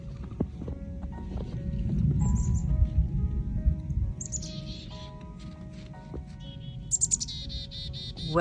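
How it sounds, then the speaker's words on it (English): Birds chirp outdoors on a morning, their short high calls coming in scattered bursts at moderate distance over a low, steady background rumble, with no talking. "Birds."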